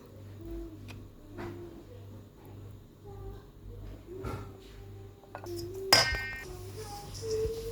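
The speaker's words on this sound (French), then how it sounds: "on va mélanger tout" Cookie dough ingredients are mixed in a bowl, giving soft scraping clinks of utensil against the bowl, with a low steady hum underneath and a sharper clink near the end.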